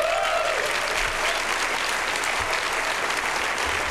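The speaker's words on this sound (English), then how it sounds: "a round of applause from the developers" Developers in a large keynote audience at Apple's WWDC applaud in a dense, steady ovation that holds at full strength throughout, with no voices standing out.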